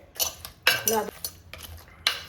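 Boiled dal is mashed in a pot, heard as a few irregular clanks and scraping bumps of a utensil against the metal, with quiet gaps between them.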